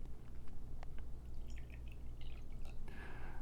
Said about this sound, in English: Here, let's get that little pour going on.